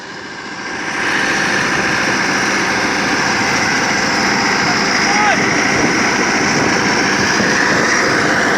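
Niva SK-5M combine harvester engine running steadily at its first start, a loud continuous engine drone that rises after a second and holds evenly throughout.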